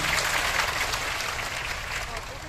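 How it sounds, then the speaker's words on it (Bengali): A hall full of people applauding the Student Welfare Foundation at a scholarship and certificate ceremony, a dense, steady wash of clapping throughout with no pauses. "আমরা একটা করতালির মাধ্যমে তাদেরকে অভিবাদন জানাই"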